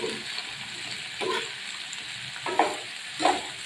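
Eggplant stir-frying in a pan: a steady sizzle broken by several bursts of stirring and scraping, close and moderately loud.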